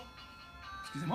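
A mobile phone ringtone plays a melodic tone that rises loud near the end of the moment, over a quiet room during a religious talk, with someone speaking briefly.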